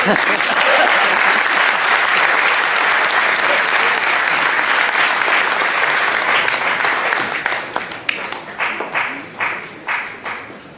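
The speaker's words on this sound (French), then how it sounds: "On peut encore applaudir de temps qu'il monte," Loud, continuous applause from an audience at a tournament ceremony in Paris, thinning near the end into scattered individual claps that fade out as a person walks up.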